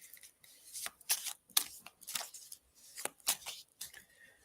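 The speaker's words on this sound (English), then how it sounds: "Just shuffling my cards" A deck of cards being shuffled by hand at a spiritualist reading, a series of soft, crisp riffling bursts in an irregular rhythm, close and quiet.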